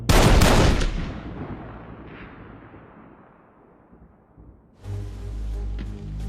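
A firing squad's rifle volley at a WW2 execution booms loudly at the start and rolls away into a long fading echo before other sound rises.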